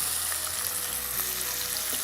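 Onions fry in a pan for spicy mutton pulao, giving a steady, dense sizzle and hiss throughout, close and even, with a low hum underneath and no talking.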